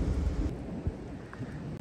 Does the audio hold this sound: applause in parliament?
no